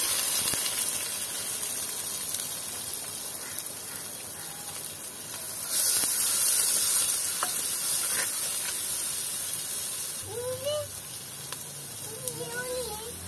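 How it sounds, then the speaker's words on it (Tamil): Chopped large onions saute in a pan for a Jaffna-style crab curry, with a low steady sizzle and hiss, a brief louder burst midway and a few scraping, squeaky stirs near the end. "வெட்டின பெரிய வெங்காயத்தை போட்டு வதக்குவோம்."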